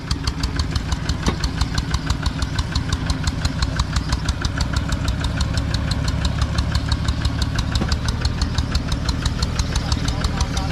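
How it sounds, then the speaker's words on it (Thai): A car's rear wheel rubs against its wheel-arch trim, making a fast, steady, rhythmic scraping tick over a continuous low engine hum, close and loud throughout, with a voice talking faintly underneath. "ล้อหลังมันหนีบไอ้บางคุ่นมันหนีบนะครับนั่นนะจะได้ยินเสียงนะครับ ล้อหลังมัน โดนกับบางคุ่นนะครับ"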